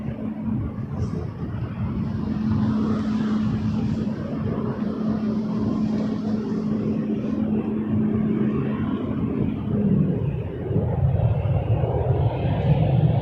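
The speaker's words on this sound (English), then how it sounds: "Look at that beautiful aircraft" A jet airliner in fresh, unfinished livery rumbles steadily at Toronto Pearson, a broad low engine drone with a faint tonal hum, swelling slightly louder near the end, with no talk over it.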